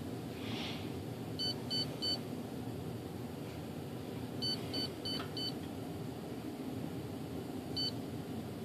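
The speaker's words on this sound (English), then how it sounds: "I'm just going to let it beep." A model glider's electronic speed controller gives short electronic beeps in quick groups of three, then a second group of four, and a single beep near the end, clear over a steady low hum.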